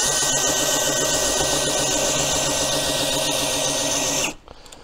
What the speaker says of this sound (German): wir machen es mittels Akkuschrauber, eine nach der anderen auf Fahrzeughöhe bringen.